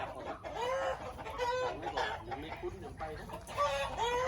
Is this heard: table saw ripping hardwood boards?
no